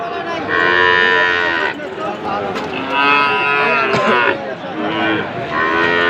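A Sahiwal bull calf moos loudly and close at a cattle market, giving a few long, drawn-out calls in a row with only brief pauses between them.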